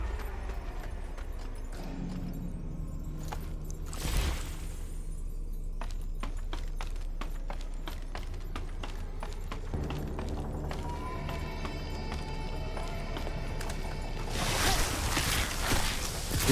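Horse hooves clip-clop in the action game Wuchang: Fallen Feathers, a steady run of sharp clacking hoofbeats over a constant low rumble of ambient game sound, with a louder whoosh near the start and end.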